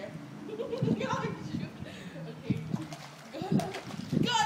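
Lola the dog splashing steadily as she swims in a backyard pool, a continuous close wash of water broken by bigger splashes, with people, including a child, talking and calling over it.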